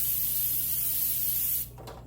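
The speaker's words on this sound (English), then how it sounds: "I'm going to go ahead and always spray" Cooking spray hisses from an aerosol can onto baking pans in one continuous, close burst lasting about a second and a half, then cuts off, leaving a low background hum.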